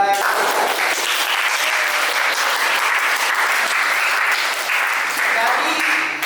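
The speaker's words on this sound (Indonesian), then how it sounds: "beri aplaus yang meriah untuk Mbak" Loud, sustained applause from a classroom of students fills the room, steady clapping for about six seconds with no break.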